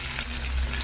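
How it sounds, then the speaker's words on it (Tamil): Mustard seeds splutter and sizzle in hot oil in a pan, a brief, dense crackle heard up close, with no voices. "நல்லா கடுகுலாம் பொரியட்டும்"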